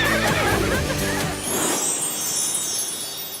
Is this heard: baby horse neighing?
yes